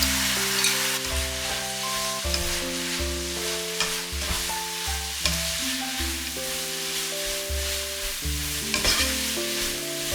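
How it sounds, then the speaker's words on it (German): Soy strips and mung bean sprouts stir-fried in a pan, a steady loud sizzle broken by repeated scraping stirs of a utensil, with no voices throughout. "Die Sojastreifen auch in die Pfanne geben."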